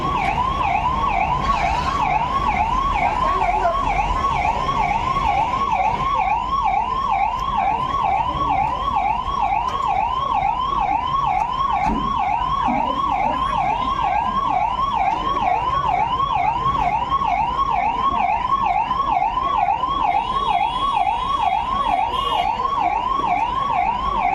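An ambulance siren wails continuously in a loud, rapid up-and-down rhythm, close by, with no talking.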